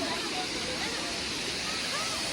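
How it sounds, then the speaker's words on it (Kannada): Abbey Falls waterfall in Madikeri, Coorg, roars as a steady, dense broadband wash of rushing water, loud and continuous throughout with no distinct pauses. "ಇದೇ ಅಬ್ಬೆ ಫಾಲ್ಸ್"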